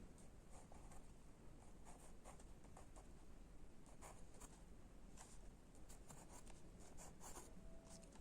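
Hand writing of a word on paper or a board during an English vocabulary lesson, a soft continuous scratching and rubbing of the pen, close and quiet, with no voices.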